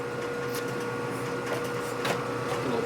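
A small triangle file chamfers a metal part on a 1957 Panhead head conversion, short scraping strokes over a steady background hum, close and moderately loud.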